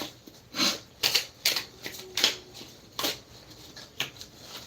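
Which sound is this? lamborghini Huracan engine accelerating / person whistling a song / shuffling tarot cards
shuffling tarot cards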